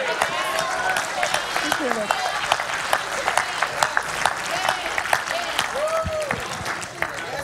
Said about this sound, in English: Go ahead and clap your hands.